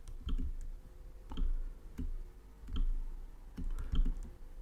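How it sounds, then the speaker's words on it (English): Mouse buttons clicking on a computer while copying and pasting, a series of sharp, close clicks spaced irregularly about half a second to a second apart over a low steady hum. "I'm going to click paste again"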